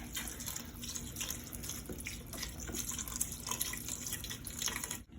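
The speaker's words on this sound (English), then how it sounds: "Just pour some of this sewage water right into this mixture." Beef stock pours into a stew mixture, a steady broadband liquid splashing and trickling that runs continuously for about five seconds at close range, then stops abruptly.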